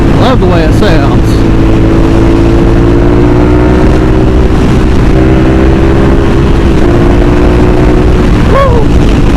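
Loud, close Suzuki SV motorcycle engine accelerating, a sustained high-revving drone that holds steady, blips briefly at gear changes and rises again, mixed with heavy wind rush.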